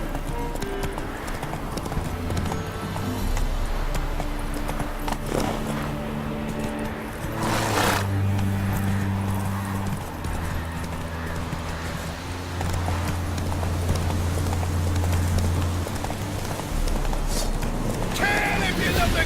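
Roach, a horse in the Witcher 3 video game, gallops with steady clip-clop hoofbeats under game music and ambience, fairly close and continuous, while a voice speaks briefly.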